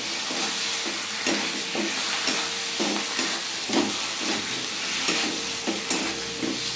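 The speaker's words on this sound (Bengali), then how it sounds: "মশলাটা 10 মিনিট ধরে কষিয়ে নিয়েছি, তেল ছেড়ে গেছে, আমি ডিমটা দিয়ে দেবো। আমি ভালো করে নাড়িয়ে দেবো।" Eggs stirred into spice paste fried in oil in a pan: a steady, close sizzle runs throughout, with a soft scrape of the spoon roughly every half second.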